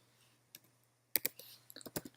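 Computer keyboard typing while coding in Django, with a single click followed by a quick burst of close, crisp keystrokes in an irregular rhythm.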